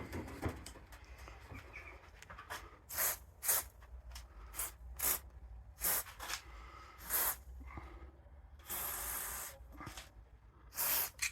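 Short bursts of penetrating lubricant sprayed from a swivel-head can onto rusted bolts of a Peugeot Bima 2 Grand Luxe moped, several separate hissing sprays of varying length, close and fairly loud, with no talking.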